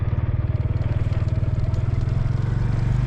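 A motorcycle engine runs steadily under way on a road, with a continuous low throbbing rumble close by and wind buffeting, carrying on without a break.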